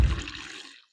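Murky water pours from the drain of a Vevor 6L ultrasonic cleaner in a cold shop, a close gushing splash that tapers off and stops within a second.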